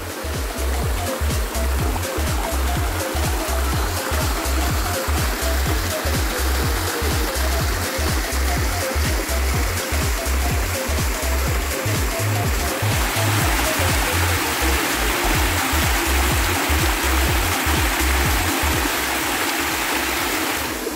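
A waterfall and stream at the El Chorrito river in La Cumbre, Córdoba, rush continuously, a steady dense splash and roar of falling water heard up close with no talk.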